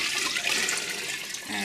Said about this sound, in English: Now we have to add water. So I usually do about 2 pitchers of water. Right in here.